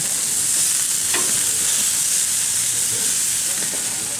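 Tri tip steaks sizzle and hiss steadily on a hot grill, a close, continuous frying crackle with a faint thump partway through.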